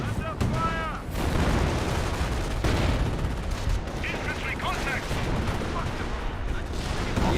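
Dense World War II-style battle gunfire in Company of Heroes 1, with rifle and machine-gun bursts and artillery rumbling continuously under a steady loud din.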